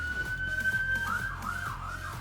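Emergency siren with an ambulance-style wail, rising and falling in repeated sweeps over a low rumbling background, fairly loud and alone without speech.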